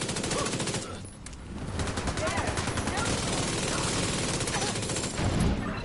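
Rapid, sustained automatic gunfire fills the scene in The Division 2's Federal Emergency Bunker mission on Hard difficulty, a loud, close stream of shots with only a brief lull early on.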